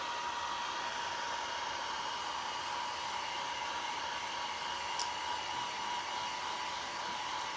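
A hair dryer runs steadily, drying something with a continuous, even airy whoosh and hum that stays close and unchanging throughout, with no voices.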